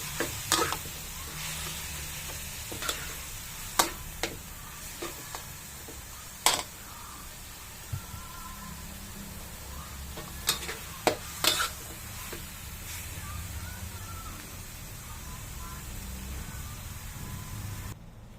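Ground pork or beef sautéing in a pan for ginisang bagoong: a steady low sizzle runs throughout, broken by sharp scattered clacks of stirring utensils against the pan, fairly close and with no talking.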